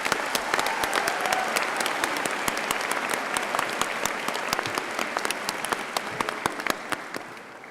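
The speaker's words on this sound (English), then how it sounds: "Can we have a round of applause for them as well" Sustained applause fills a graduation ceremony hall at Birmingham City University, a dense steady wash of many hands clapping from start to finish with no break.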